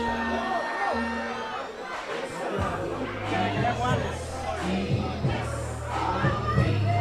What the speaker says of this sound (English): You see the crowd there celebrating